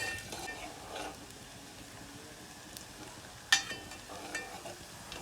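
Garlic, onion and spices frying in a pan for gathiya curry on a farm, a faint steady sizzle with occasional stirring and a sharp metallic clink partway through, with no talking.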